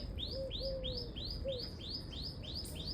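Birds chirping in a flower garden with sparrows, doves and parrots about, a quick repeated series of bright chirps alongside a few low cooing notes, close and clear over a soft background.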